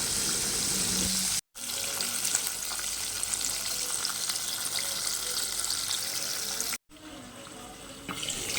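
Chicken broast pieces sizzle steadily in hot oil as they are turned, a dense continuous frying hiss with brief scraping and splashing, broken by two short silent cuts.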